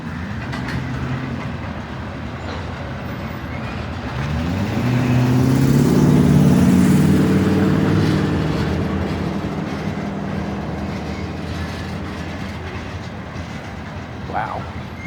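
A long BNSF freight train of tank cars passes in Piscataway, its locomotive engine droning louder as it nears and then fading into the rolling rumble and clatter of the cars.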